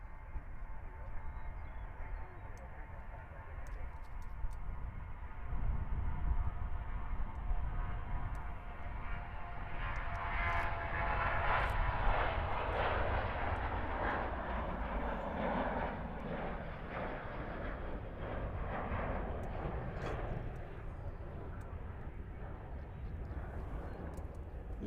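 Jet airliners take off one after another at Nashville International Airport, a broad sustained roar that swells and fades from a distance while a voice talks over it at times.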